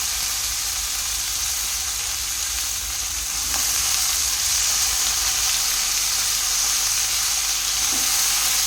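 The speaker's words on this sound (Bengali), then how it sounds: "পেঁয়াজগুলো হালকা করে ভেজে নিয়েছি, এবার আমি সবজিগুলো দিয়ে দিচ্ছি।" Mixed winter vegetables fry over lightly fried onions in a pan, a loud, continuous close-up sizzle and hiss that swells slightly midway, with a couple of faint stirring knocks.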